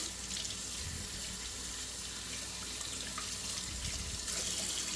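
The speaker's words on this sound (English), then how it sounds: "Just give them a quick rinse to get the dust and any kind of little bugs off the outside." Fresh morel mushrooms rinsed under a running kitchen tap, a steady close stream of water splashing into the sink throughout with no voices.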